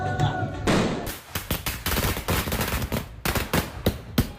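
Rapid volleys of fireworks and firecrackers burst in celebration of India's win, a dense crackling barrage of sharp pops with brief pauses, loud and close.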